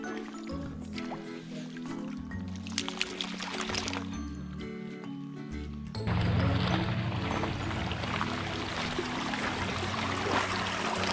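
A creek in Cuivre River State Park, Missouri, flows with steady trickling and babbling water close by. It grows louder and fuller partway through, with no talking.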